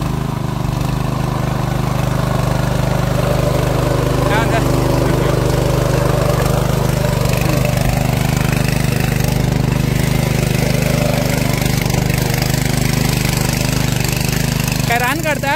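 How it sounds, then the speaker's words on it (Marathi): A tractor engine churning a muddy paddy field drones steadily and loudly throughout, with a constant low rumble and faint voices and calls heard over it. "तिथं ट्रॅक्टरच्या सहाय्याने शेती केली जाते"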